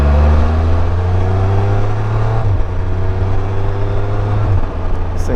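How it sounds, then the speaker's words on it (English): A 2022 Can-Am Spyder F3L motorcycle engine runs loud and close with a steady low drone. Its pitch holds, drops briefly around the middle, then settles again while riding. "she sounds like an F3"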